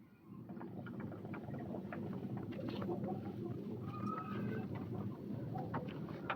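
Chickens and hens at a poultry breeders' farm cluck and squawk nearby in a busy, overlapping chorus, with sharper individual calls rising now and then over the steady flock noise.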